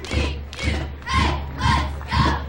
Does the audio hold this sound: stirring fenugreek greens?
no